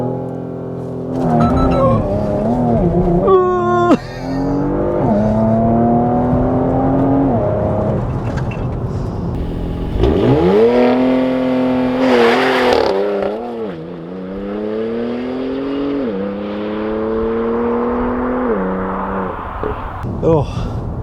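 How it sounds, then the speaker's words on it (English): A Porsche Macan GTS makes a launch control start in Sport Plus with traction control semi-off. The engine revs and pulls hard through several rising sweeps broken by quick gear shifts, and a voice is heard at times. "I'll do one launch control because you know you can't not"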